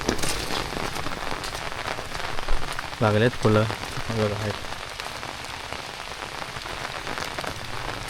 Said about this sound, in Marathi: थोडासा पाऊस कमी झाला बघा